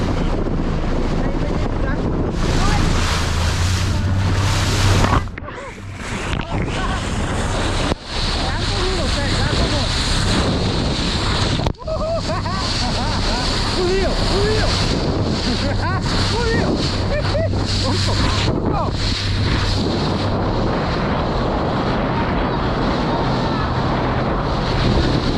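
A small family motorboat out at sea, riding with steady wind buffeting the microphone and a constant engine hum beneath, waves slapping the hull throughout, with a couple of brief dips in the roar.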